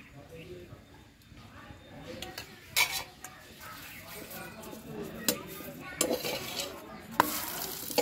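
Spinach paratha fries in oil on a pan, a soft sizzle running throughout beneath scattered sharp scrapes and clinks of a spatula against the pan, with several louder metallic knocks toward the end.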